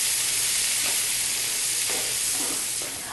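Bacon and onions cooking in a big pot make a dense, constant sizzle and hiss, with faint stirring scrapes now and then and no voices.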